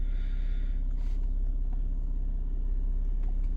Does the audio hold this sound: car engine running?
yes